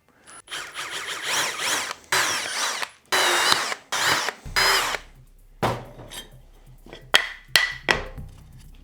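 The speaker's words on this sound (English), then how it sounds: "So we'll use a 1/8 drill bit." A power drill with a 1/8 inch bit bores into steel in repeated bursts, loud and close, each whining run starting and stopping abruptly with short pauses between.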